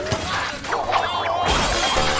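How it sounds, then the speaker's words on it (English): Window glass shatters with a bright, close crash in a Pink Panther cartoon as someone smashes through it, followed by tinkling shards and scattered clatter. "he crashes through the window"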